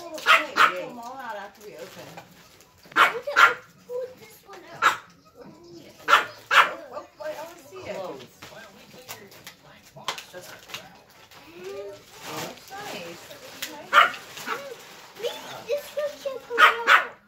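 A dog barks in scattered sharp bursts during an indoor Christmas gathering, mixed with frequent talk and chatter from people nearby.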